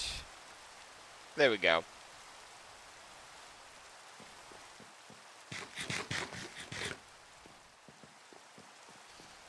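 Steady, soft rain falls in the Minecraft video game, a constant gentle hiss running through the whole stretch, with brief speech heard over it twice.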